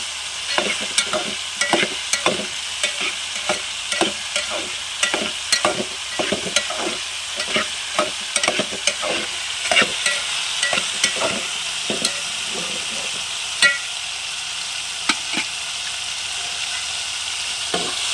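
Village-style drumstick curry cooks in a frying pan. A spatula scrapes and knocks against it in rapid, irregular strokes over a steady close sizzle.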